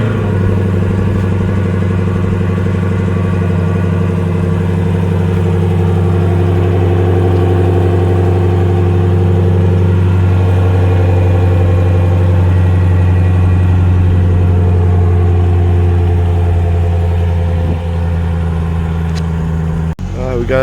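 A 2020 Dodge Durango RT fitted with a Corsa exhaust idles loud and close on its first start after installation, a steady deep rumble holding even throughout with no revving.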